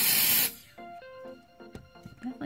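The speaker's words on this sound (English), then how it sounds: "I'm gonna actually spray it, I think, closer to my nail" Nail drying spray from an aerosol can gives one loud, close hissing burst of about half a second, then quiet room noise and faint handling sounds.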